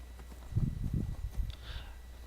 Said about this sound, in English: This is a horse you don't want to mess with, Bear.